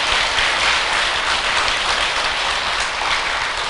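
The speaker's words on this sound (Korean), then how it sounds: "봉사하는 저 불자들한테도 박수 한번 보내주세요" Applause from a crowd at a Buddhist temple Dharma service, given for the volunteers, sounding as a dense, steady wash of clapping hands that lasts a few seconds without voices.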